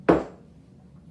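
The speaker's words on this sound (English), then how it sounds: "And it says chop these too" A single short knife chop through capers on a board, one crisp close thump with a quick fade, quiet and alone.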